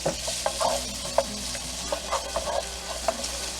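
Bacon renders in a hot pan with a continuous loud sizzle and frying hiss, punctuated by close scrapes and knocks from a utensil stirring the pieces.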